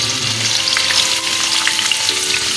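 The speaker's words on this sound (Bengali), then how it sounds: "এবারে আলু আর ফুলকপিগুলো দিয়ে দেবো।" Potato and cauliflower pieces fry in a pan of hot oil, giving a loud, close, dense sizzle with crackling spits, faint background tones running beneath.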